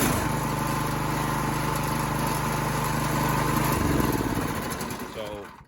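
A Predator small engine repowering a Toro snowblower runs steadily close by, a loud continuous buzzing drone that shifts in pitch near the end before cutting off abruptly.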